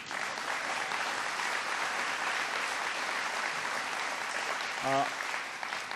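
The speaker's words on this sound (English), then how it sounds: "Give him a round of applause anyway." A forum audience applauds for the absent mayor, a steady round of clapping at moderate volume, broken near the end by a brief voice cutting in.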